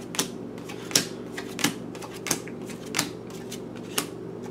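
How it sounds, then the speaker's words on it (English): Oracle cards being shuffled and spilling from the deck, heard as a series of crisp, separate taps and slaps at irregular intervals, close and moderately loud, with no speech. "we already got a bunch of oracle cards just spilling into this situation"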